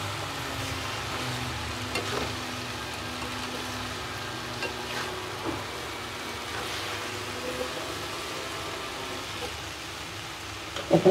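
Kachki fish frying in a pan of spiced oil with potatoes, a steady close sizzle like light rain that holds evenly throughout, with a few faint clinks and a louder clatter at the very end.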